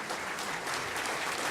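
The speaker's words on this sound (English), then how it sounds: "how about a round of applause for all the panel speakers tonight?" An audience applauds panel speakers at a Muhlenberg College healthcare reform event, with a steady, dense wash of clapping throughout.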